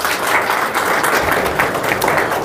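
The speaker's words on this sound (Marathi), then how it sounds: "त्यांच्यासाठी टाळ्या वाजवा." A large crowd at a public gathering applauds, a loud, dense and continuous roar of clapping hands that holds steady from start to finish.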